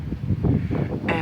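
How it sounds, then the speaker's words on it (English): Wind blowing steadily outdoors on a breezy, mild day, a broad rushing noise buffeting the microphone with low rumbling gusts throughout. "nice windy day"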